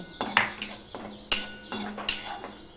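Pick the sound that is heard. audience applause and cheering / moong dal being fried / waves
moong dal being fried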